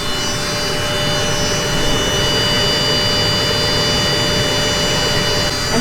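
Exhaust fan on a WeCreat desktop laser engraver running with a rotary attachment, a loud, steady whooshing drone with a constant tonal hum that holds without change for several seconds, no voices.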